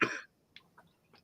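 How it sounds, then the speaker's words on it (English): A single short cough, fairly close, followed by a few faint clicks and rustles in otherwise quiet surroundings. "Still got my cough,"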